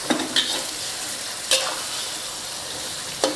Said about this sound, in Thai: ค่อยๆผัดไปนะคะ